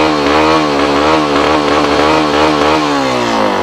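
An MLE XTM-R cheap Chinese motard motorcycle engine revs loud and close, a harsh buzzing single-cylinder note that climbs and falls, held near high revs without clear breaks.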